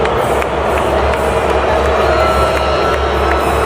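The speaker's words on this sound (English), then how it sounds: "Again, here's the booing." A large crowd jeers and boos, a loud, continuous roar of massed voices that holds steady throughout with no break.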